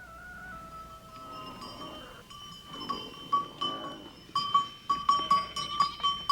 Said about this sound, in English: yaks and goats are sent to stony pastures